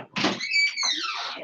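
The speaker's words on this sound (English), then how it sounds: "okay, you need me to open the door?" A door is opened in a home with a short thunk followed by a faint sliding, creaking sweep that fades over about a second, close by and with no talk over it.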